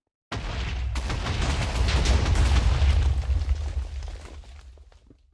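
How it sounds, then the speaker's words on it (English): A loud, sustained explosion-like rumble in modded Minecraft, set off by cooking tofu, swelling for about four seconds and then fading, with no voices. "cooking this tofu will make explosion particles and effect noises"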